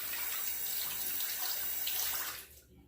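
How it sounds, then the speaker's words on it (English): Water runs steadily from a tap to rinse a Durham Duplex folding razor, a continuous close hiss that cuts off near the end. "Rinse the razor."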